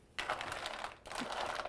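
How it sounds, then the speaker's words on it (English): Mussels seasoned with salt and black pepper crackle and sizzle while steaming in a pan, a dense close-up crackle that runs through the whole moment with a short dip in the middle. "Uh-oh, the mussels start to make a noise."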